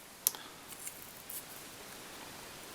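Scissors snip fly-tying material to length: one crisp close snip followed by a couple of fainter clicks, then near silence.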